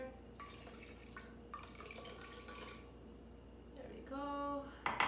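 A cup of water is poured into a blender for a fruit smoothie in a kitchen: a short, gurgling trickle near the end follows quiet drips and small clinks.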